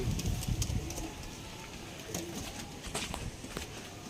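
Punjabi Malbari pigeons coo softly in a box, a low murmuring layered with faint background rustle and occasional sharper ticks, steady and fairly quiet throughout.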